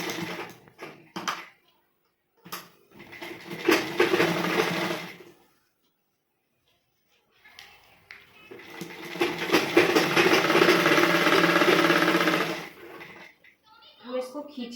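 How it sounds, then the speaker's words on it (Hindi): Domestic sewing machine stitching a blouse, running in two sustained bursts with a rapid mechanical whirr and brief pauses between them, fairly close, with faint handling noises and a short voice near the end. "इसको हम सिल लेंगे।"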